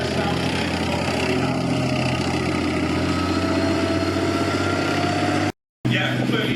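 A British Army tank recovery vehicle's engine runs steadily with a deep, loud, continuous rumble, and a voice talks over it before a brief dropout near the end.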